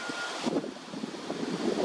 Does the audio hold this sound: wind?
yes